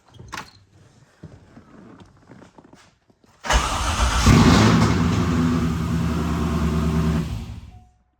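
A Corvette C5 engine, freshly rebuilt, cranks and catches, then roars loudly and runs steadily for several seconds before cutting off, after some quiet knocks and shuffling.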